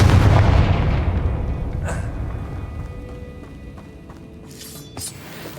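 Confringo fire-spell blasts in the Hogwarts Legacy game, a loud booming explosion at the start that rumbles and decays over several seconds, followed by a smaller burst near the end.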